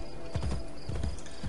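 Horse hooves clip-clopping in Assassin's Creed Brotherhood, a quick steady rhythm of close, heavy hoof beats throughout.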